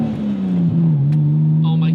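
Nissan 240SX engine holding a steady loud drone on a dyno, pitch dipping slightly and then settling, with brief higher-pitched chirps near the end.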